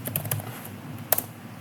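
A few quick, light keystrokes on a computer keyboard while a Docker version command is entered, with a couple of sharper clicks near the end against a low steady room hum.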